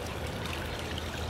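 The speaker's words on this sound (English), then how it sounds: "pond with waterfall." Steady trickling water from a small garden pond waterfall at a house entrance, a continuous soft broadband wash of flowing water, fairly quiet and uninterrupted, with no voices.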